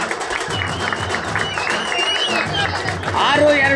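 Crowd clapping and cheering around a kusthi wrestling bout in the 84 kg+ men's class of a health league, steady applause with a commentator talking over it, growing louder toward the end.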